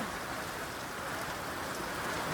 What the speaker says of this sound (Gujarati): બહુ ખતરનાક વરસાદ પીડો મિત્રો હજી ચાલુ છે